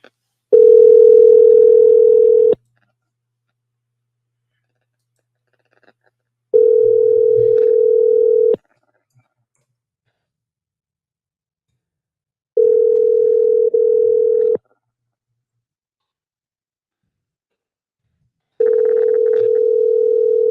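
Outgoing telephone call ringback tone: four identical two-second tones separated by roughly four-second silences, loud and clear with no talking.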